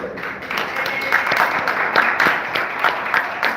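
A city council meeting audience breaks into a short burst of applause, a steady patter of many hands clapping at moderate distance, with some voices mixed in.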